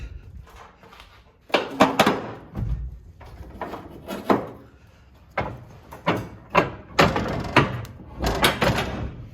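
A car door is shut a few times, each closing a solid thud with rustling and handling noise between, close by.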